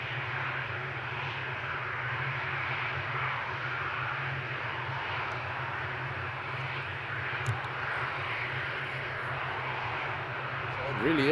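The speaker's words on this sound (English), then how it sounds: "Everybody is enjoying the takeoff action here." Aircraft taking off at Amsterdam Schiphol airport, a steady broad engine roar held for the whole stretch, with crowd chatter from spectators mixed in underneath.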